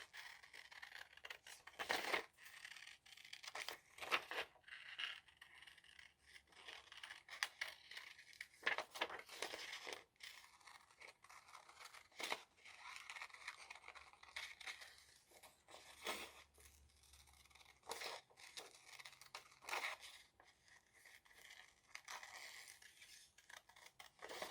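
Scissors cutting out paper pages for an altered craft book, repeated crisp snips and rustling paper handling close by, fairly quiet and irregular with short pauses.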